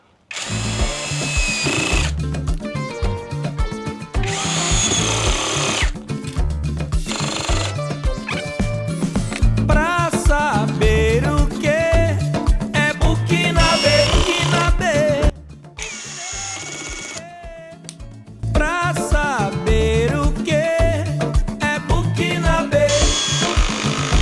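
A Grosser cordless drill-driver whirs in repeated bursts, its clutch ratcheting and clicking rapidly as it slips, with brief pauses between runs, loud and close.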